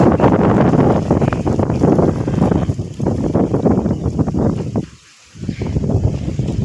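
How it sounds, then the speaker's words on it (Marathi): Strong stormy wind in a village buffets the microphone, a loud continuous roaring rumble with gusty surges and one brief lull near the end, no voices. "असलं वाईट वारं चालले तुफान आले"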